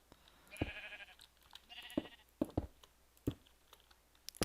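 A Minecraft sheep bleats twice in quick succession, soft and close, amid sparse clicks of game actions and keyboard taps.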